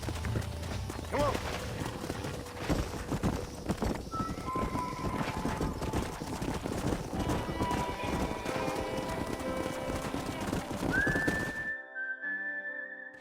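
Hooves clip-clop steadily with a horse neighing and snorting in Red Dead Redemption, a busy game soundscape with birds and music underneath, ending in a sustained whistle-like tone.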